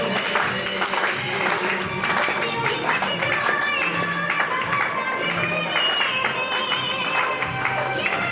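Scattered audience clapping at a baby shower, steady and moderately loud across the whole stretch, with voices and crowd chatter mixed in underneath.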